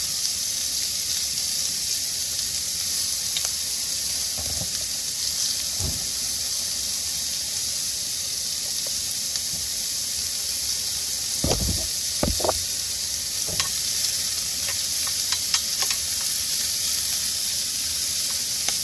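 Food sizzling in a pan with HP sauce added while cooking, a constant hiss of frying with a few soft clinks and taps of a utensil.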